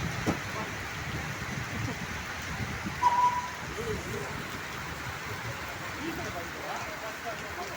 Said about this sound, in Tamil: ஒசூரில் மழை கனமழையாக பெய்து கொண்டிருக்கிறது